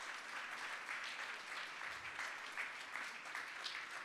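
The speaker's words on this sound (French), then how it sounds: "On l'applaudit, Hélène Brun, qui nous rejoint sur scène." Audience applause at a dental conference as a prize winner comes up on stage: steady, fairly faint clapping from a large hall, even and sustained throughout with no voices on top.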